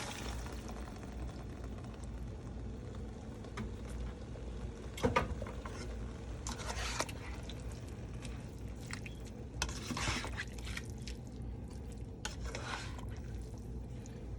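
Steak and peppers are tipped back into a pan, giving a few sharp clattering scrapes and knocks amid a low steady sizzle, with no talking.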